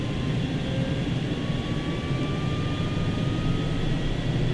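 A T-6A trainer aircraft engine drones steadily during a takeoff roll in a flight simulator at Laughlin AFB, a constant loud turboprop hum with a faint rising whine and no voices.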